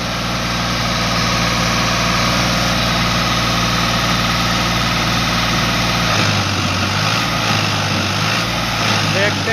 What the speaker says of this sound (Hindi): उसकी ट्राली अभी ये निकालेगा फार्मेटिक 60